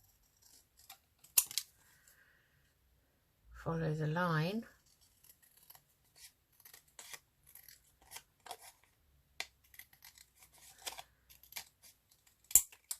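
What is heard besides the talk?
scissors cutting paper ephemera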